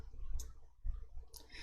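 Two soft, sharp mouse clicks roughly a second apart while choosing Scenario Manager under the Data tab's What-If Analysis in Excel, with quiet room noise between them.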